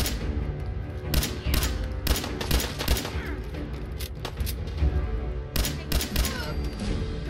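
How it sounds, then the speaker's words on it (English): Rapid gunfire from the video game Fallout 4, bursts of sharp overlapping shots in quick succession filling the whole stretch, loud and close. "I'm just gonna shoot you in the head."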